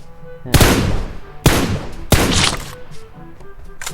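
Three loud, close gunshot blasts from PUBG Mobile, each a sharp crack with a booming echo tail, spaced roughly a second apart.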